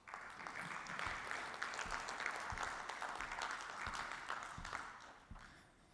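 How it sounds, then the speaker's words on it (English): Audience applause at a conference talk at a business summit, a steady burst of clapping that holds level for several seconds and then tapers off at the end. "Give Alan and Jackie a round of applause"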